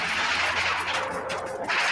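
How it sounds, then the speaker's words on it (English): A bomb dropped from a state police helicopter onto a house in Philadelphia in 1985 bursts with a rough, sustained roar of crackling, gunfire-like blasts on a degraded archival recording. "State police helicopter drops it. There is the explosion."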